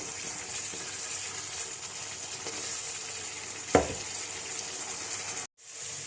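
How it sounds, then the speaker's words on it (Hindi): Beef pieces for Bihari boti masala sizzle and fry in a pan over high heat, a steady close hiss with a single stirring clatter partway through and a brief dropout near the end. "अच्छी सी हम इसकी गोश्त की भुनाई कर लेंगे।"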